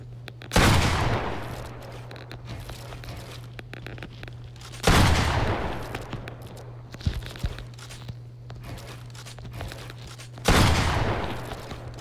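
Gunfire in Fortnite while shooting targets during an edit course, three loud sharp blasts spaced a few seconds apart, each with a short decaying tail, with quieter clicks and rapid taps between them.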